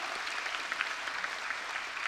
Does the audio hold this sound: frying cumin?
no